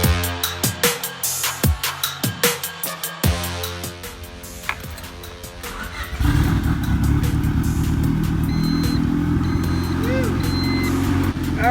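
A silver Honda Civic on a dyno, first a series of sharp throttle blips, then a sustained loud engine run holding a steady drone to the end, with people talking in the background.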